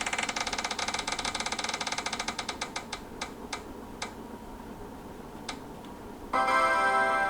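A prize wheel spins with rapid clicking ticks that slow and spread out until it stops, close and clear, followed by a brief bright jingle.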